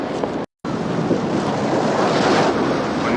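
Ocean waves washing onto a beach in a scene from the 1979 film The Warriors, a loud continuous rushing surf mixed with wind noise, briefly cut out near the start, with no talk.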